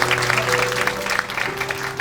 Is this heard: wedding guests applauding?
yes